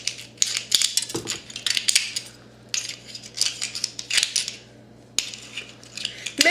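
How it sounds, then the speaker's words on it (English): Repeated crisp snipping of scissors trimming a homemade butter candle in quick bursts, close up, with short pauses between cuts and no talking. "You can also use the scissors to trim it."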